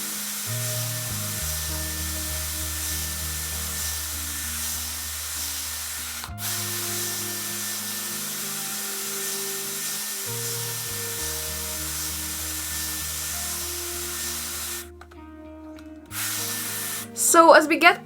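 A Dyson Airwrap with a firm smoothing brush attachment blows air on its cool setting, a steady breathy rush with a faint whine. The flow cuts out briefly twice, and there is handling noise near the end.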